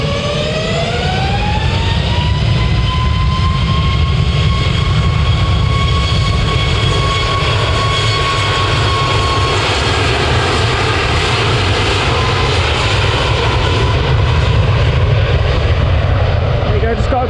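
A jet airliner's engines at Manchester Airport roar loudly and steadily, with a rising whine that settles into a sustained high tone over a broad rumbling wash, continuous for many seconds.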